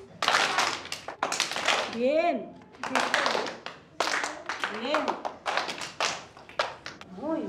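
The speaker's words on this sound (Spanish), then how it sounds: "vamos a aplaudir" Children clap along in a classroom reading game, a few scattered claps breaking through frequent talk and sing-song voices from an adult and kids.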